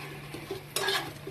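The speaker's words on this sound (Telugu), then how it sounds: "ఉల్లిపాయలు, పోపు గింజలు సగం మగ్గిన తర్వాత కాకరకాయలు వేసుకోవాలండి." Bitter gourd pieces stir-fried in a pan with onions and seasoning seeds, a soft sizzle with a brief burst of scraping and stirring near the end, close and fairly quiet.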